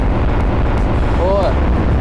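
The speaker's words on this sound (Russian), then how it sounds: "Ой, ядерную бомбу. Взрываю." A nuclear bomb detonates in Garry's Mod, a loud sustained roaring blast that fills the whole stretch, with a voice briefly heard over it.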